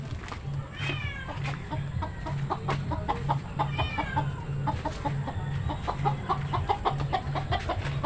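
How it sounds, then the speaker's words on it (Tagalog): Chickens being fed cluck and chatter in a busy, overlapping flock, with rhythmic low pecking or tapping sounds underneath, close by. "papakain ko muna yung manok"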